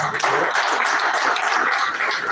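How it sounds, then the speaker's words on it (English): A group at a leadership retreat clapping for themselves, a dense, continuous burst of hand claps filling the room at moderate loudness. "Can we clap for ourselves?"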